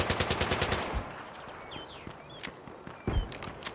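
Automatic rifle fire in the video game Battlefield 3 on the Metro map, a rapid close burst of about ten shots followed by scattered single shots and a final louder shot.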